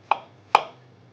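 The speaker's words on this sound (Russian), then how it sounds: "И теперь я порежу наши грибы" Two sharp knife chops cut mushrooms on a board in a home kitchen, about half a second apart, each a crisp close thud with a short decay over a quiet low hum.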